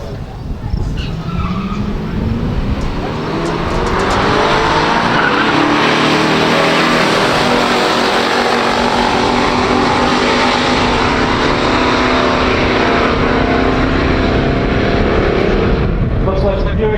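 A 1970 Camaro Z28 and a 1972 Buick GS 455 Stage 1 stock drag race: loud, close V8 roar and tyre noise that swells into a sustained full-throttle blare as the cars launch and run.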